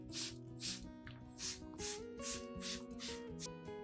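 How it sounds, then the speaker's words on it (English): Rice water and onion solution is misted from a spray bottle over an Anthurium plant in a quick series of about eight rhythmic hissing pumps, heard under soft background music. "Then spray lightly and evenly over the entire Anthurium plant, including the leaves, stem,"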